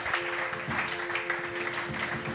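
A church congregation applauds during a worship service, a steady wash of clapping with some voices mixed in, held at even loudness throughout.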